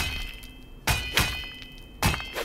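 A sword striking a base wall in the game Rust gives about four hard, dull thunks with metallic ring, spaced irregularly and loud against quiet between hits.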